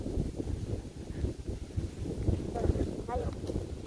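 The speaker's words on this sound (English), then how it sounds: "It's very windy." Gusty wind buffets the microphone in low, rumbling bursts, with faint voices in the background.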